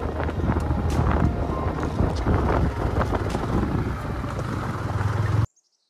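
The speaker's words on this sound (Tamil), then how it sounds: "காத்து பாருங்க எப்படி அடிக்குது." Strong wind roars across an exposed hilltop in the Chikmagalur forest, buffeting the microphone in a loud, continuous gusting rush that stops abruptly near the end.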